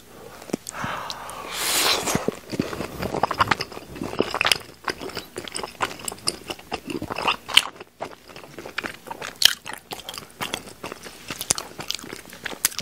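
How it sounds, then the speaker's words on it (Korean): Close, crunchy chewing and biting of tteokbokki, Korean rice cakes in jjajang black bean sauce, with steady irregular mouth sounds and smacks throughout and no talking. "이건 뽀로로 떡볶이는 아니지만 한번 먹어볼게요"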